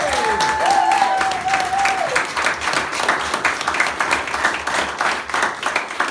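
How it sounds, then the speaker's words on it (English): An audience at a Welsh talent show claps and applauds continuously, dense rapid clapping with a crowd murmur and some cheering, with a brief vocal whoop early on. "So can we have a round of applause for them again"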